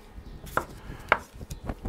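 A knife chops washed potatoes in their skins on a board, with a few distinct close cuts in an irregular rhythm over quiet kitchen background.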